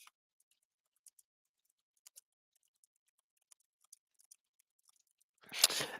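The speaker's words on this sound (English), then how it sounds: "sorry, I was typing" A computer keyboard is tapped in sparse, faint, irregular clicks over near silence, followed by a louder rustling burst at the very end.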